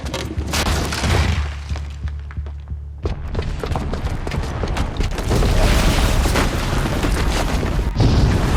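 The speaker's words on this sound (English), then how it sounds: "the booby trap on the bomb downstairs is gonna get set off" Booby-trapped bomb going off in Horizon Zero Dawn, a heavy booming blast followed by rumbling thuds, creaking debris and mechanical clatter that stays loud and dense to the end.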